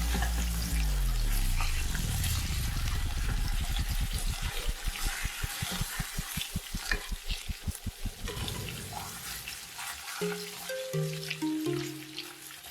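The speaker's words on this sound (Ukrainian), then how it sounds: "Перевертаємо їх і смажимо так одну хвилину." Steaks sizzle and crackle steadily in a hot pan with small pieces of butter melting on top after being flipped, a loud continuous frying hiss that thins out toward the end, with a few soft tonal notes appearing late.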